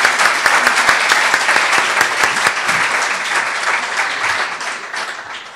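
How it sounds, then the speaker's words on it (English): Audience applauds at a breast care panel discussion, a dense steady wash of many hands clapping close to moderately near, holding strong for several seconds and easing slightly toward the end. "So, round of applause."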